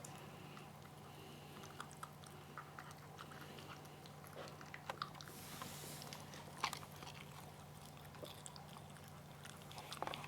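A Bully Kutta dog chews and crunches goat meat close up, with irregular wet bites and soft smacking over a low steady hum.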